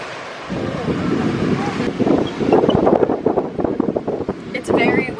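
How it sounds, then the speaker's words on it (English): Strong wind buffets the microphone on a tiny lighthouse balcony by the sea at Key Biscayne, Miami, a loud rough roar that gusts and swells, with voices talking over it. "It's very windy."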